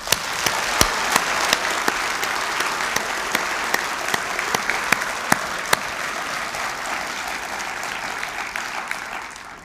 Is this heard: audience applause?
yes